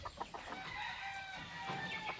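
A breeding rooster clucks in a short series of soft, fairly close calls, with faint background bird chatter and farmyard noise.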